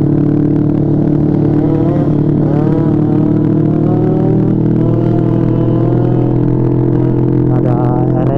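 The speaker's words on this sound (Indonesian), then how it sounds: "Ada RS King tuh, ngegas tuh" A Yamaha RS King motorcycle engine runs loudly and close at night, holding a steady rough drone with rising revs near the middle and again toward the end.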